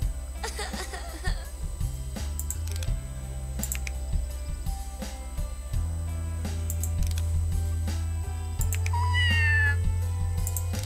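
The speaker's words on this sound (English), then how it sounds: "There you go, have the cat." A cat meows inside the Scribblenauts Unlimited video game, several short meows scattered among game music and sound effects with a rising cry near the end, plus faint keyboard clicks.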